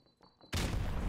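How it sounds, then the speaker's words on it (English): A grenade explodes in Modern Warfare Remastered with a sudden loud, broad blast that cuts in after faint quiet sounds and then holds as a sustained roar. "That was our nade."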